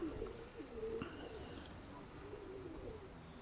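Soft, low cooing of pigeons repeats several times, fairly faint against quiet background noise.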